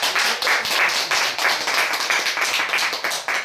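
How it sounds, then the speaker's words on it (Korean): A small group at a Korean traditional-arts New Year gathering claps for their outgoing president, a close, steady patter of hands with uneven bursts throughout. "박수 한 번."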